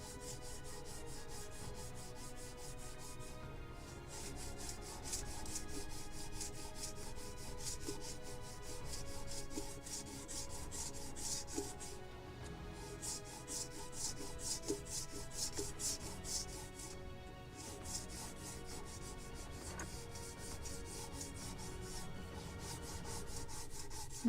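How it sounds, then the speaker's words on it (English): Steady rhythmic rasping of sandpaper rubbing across a wooden model ship part, continuous back-and-forth strokes close up with no talking. "So let me sand it first."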